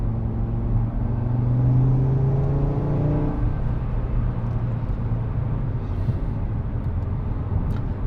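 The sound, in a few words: Audi RS3 Quattro engine revving while accelerating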